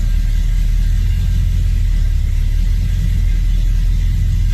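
A Chevrolet S10 truck with a straight axle conversion and new TCI transmission, its engine rumbling steadily and loudly up close as it drives off, with no talk.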